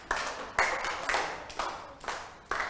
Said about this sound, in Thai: ปรบมือ10ครั้งค่ะนักเรียน